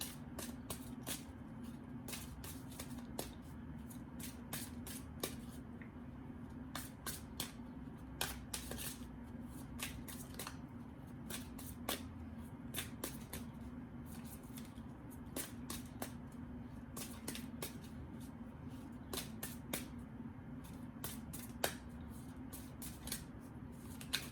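Tarot cards shuffled steadily for a long stretch, with quick papery riffles and soft snaps recurring through a low, constant room hum; no voice is heard.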